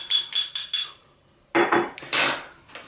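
A utensil clinks and scrapes against a bowl while ponzu dipping sauce is mixed, four quick taps followed by a few louder scraping strokes, close and clear.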